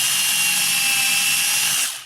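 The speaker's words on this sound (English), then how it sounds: "I'm going to go in from this side with the drill" A power drill drives a screw into wood at an angle for a framework, a loud close whine held steady for about two seconds before spinning down and stopping.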